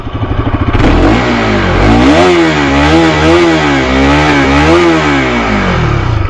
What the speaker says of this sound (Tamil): ரா சவுண்டு, இன்ஜினோட ரா சவுண்டு இது ரொம்பவே சூப்பராக இருக்குது